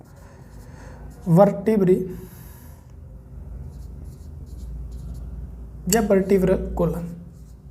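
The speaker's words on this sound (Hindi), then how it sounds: "यहाँ पे लिख देता हूँ मैं" Chalk or marker writing on a board during a Hindi anatomy lesson on the skeletal system, two quick bursts of scratchy strokes between stretches of a teacher talking.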